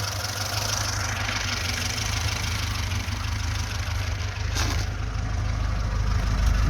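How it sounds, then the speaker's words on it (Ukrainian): A VAZ 2106 car engine idling steadily up close, a constant low rumble with an even, throbbing rhythm throughout. "Автомобільчик працює на холостих обертах."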